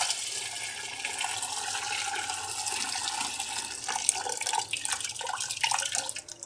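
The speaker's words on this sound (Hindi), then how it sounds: "नॉर्मल पानी डालेंगे इस पर।" Normal water pours and splashes steadily over boiled macaroni in a container, with gurgling and a few drips as the flow breaks up toward the end.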